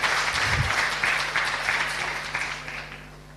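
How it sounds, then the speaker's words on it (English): Warm audience applause following a Merak Eagle Dance performance at an academic conference, a broad sustained patter of many hands that gradually tapers off toward the end. "please give another big warm of applause for the Merak Eagle Dance"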